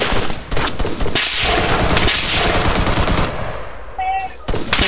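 Rapid bursts of automatic gunfire in the video game Arma 3 crackle loudly and continuously, with short pauses between volleys and a brief electronic beep near the end.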